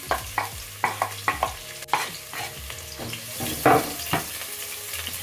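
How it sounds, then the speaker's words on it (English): Chopped onion fries in hot oil in a pan, with repeated close scraping stirs over a continuous soft sizzle and no talking. "And just fry them until it gets soft."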